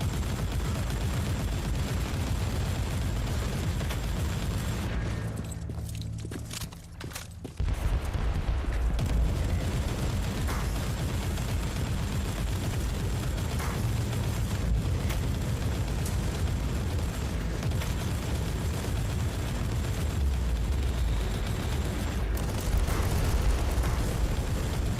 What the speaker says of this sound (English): Nothing like just holding down X and mag dumping everything.